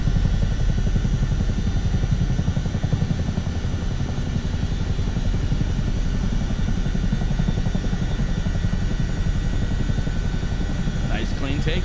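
A CH-47D Chinook twin-rotor helicopter in Microsoft Flight Simulator 2024 rumbles loud and close, its rotors thumping in a steady rapid beat over a constant turbine whine, with someone talking over it.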